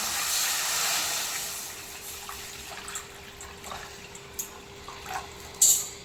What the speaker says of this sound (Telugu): నేనైతే నీళ్ళు పోసుకుంటున్నాను